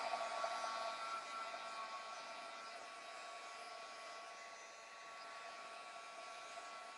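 A hair dryer blows over wet paint on an art journal page, running as a steady, faint, continuous whirring hiss from start to finish with no talking.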